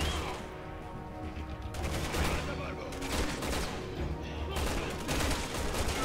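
Gunfire rattles through a Resident Evil 6 fight against a giant, several loud bursts of rapid shots separated by short pauses over game background noise.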